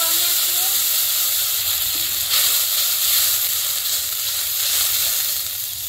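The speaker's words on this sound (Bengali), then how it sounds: "এদিকে মশলার জল ফুটতে শুরু হয়েছে" Spice water holding ground onion-garlic paste, mustard-cumin paste and whole cumin starts to boil in a pan for a river fish and kochu curry, giving a steady, loud bubbling hiss throughout.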